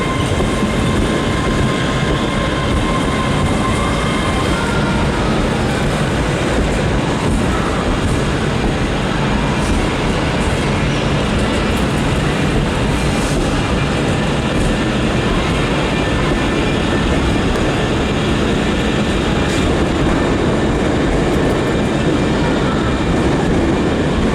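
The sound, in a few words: Hitachi Class 385 electric train ride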